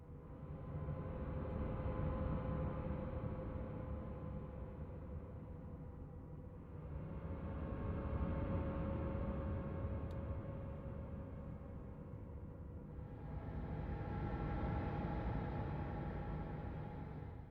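Decompressed music from a video game, a dense, murky wash of sustained low droning tones swelling in long waves, steady and unsettling, with no speech.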